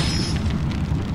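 Fireball jutsu attack effect in an anime parody, a loud, continuous low roaring boom like a fiery blast, heard alone at close range.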